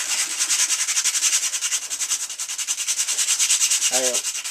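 Sandpaper scuffing a Boba Fett helmet ear part to roughen it before gluing gives close, steady rhythmic rasping strokes throughout, with a brief knock near the end.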